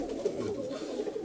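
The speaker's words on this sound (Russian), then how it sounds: "Це летящі голуби." Pigeons cooing nearby in a loft, soft repeated low throaty coos overlapping in a steady murmur, no speech.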